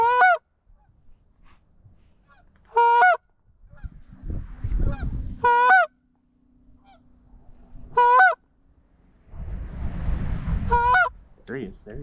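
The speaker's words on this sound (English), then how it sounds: "We're just waiting on the ducks or geese, whichever, to fly and hopefully give us a look." Geese honk in short bursts of several calls from a stick blind during a goose hunt, spaced every few seconds, with rustling and low handling noise in between.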